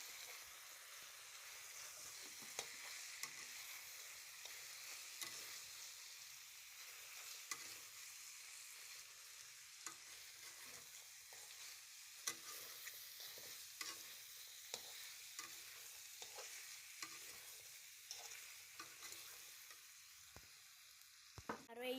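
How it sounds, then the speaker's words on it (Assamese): Meat with spices sizzles and fries in an oil-filled kadai, with a steady hiss throughout, close but soft, punctuated by frequent stirring scrapes and clinks of the spatula, and no talking. "আৰু এয়া মাংস বহাই দিলোঁ কেৰাহীত আৰু মছলা পাতি গোটাই দিলোঁ"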